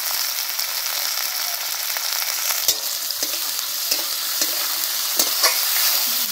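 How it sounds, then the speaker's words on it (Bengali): Carrots, cauliflower and cabbage stir-fry in a hot pan for vegetable chowmein, giving a steady close sizzle with frequent scraping clicks of stirring throughout and no talking. "একটু নেড়ে নেবে।"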